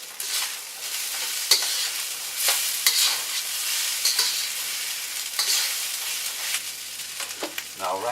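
Fried rice being stirred in a hot pan with sesame oil just added, a steady close sizzle with scraping and tossing strokes of a utensil throughout, loud and continuous with no talking.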